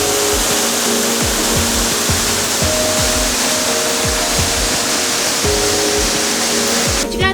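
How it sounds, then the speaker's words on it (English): A waterfall at Rock City roars as a continuous, dense rush of falling water, loud and close, with a low rhythmic thudding running underneath. "Yeah, it's a pretty cool waterfall."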